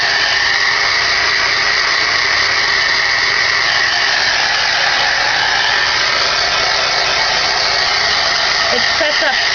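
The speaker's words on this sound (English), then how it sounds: "we're going to go ahead and heat set this really quickly" A heat tool blows steadily and loudly at close range for several seconds, setting embossing on a handmade card with one constant, even whoosh and no pauses.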